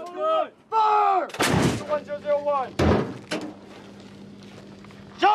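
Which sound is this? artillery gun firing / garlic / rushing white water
artillery gun firing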